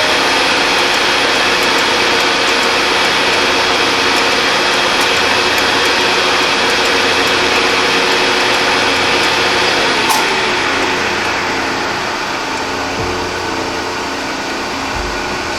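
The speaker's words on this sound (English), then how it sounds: "Center drill it again with my slightly too large center drill" A slightly oversized center drill bores into metal on a machine, giving a steady loud whir with bright grinding texture that runs on for about ten seconds, then softens and fades as the cut ends.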